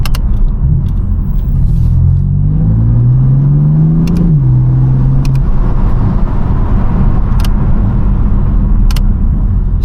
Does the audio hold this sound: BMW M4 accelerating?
yes